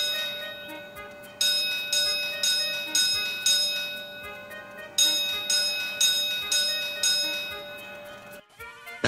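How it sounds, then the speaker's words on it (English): A signal cabin bell on a railway branch line rings out a coded sequence of evenly spaced strikes, grouped in two bursts of about five rings separated by a pause, clear and close over a quiet background hum. "The bell in the cabin on the branch line rang once, then five, pause five."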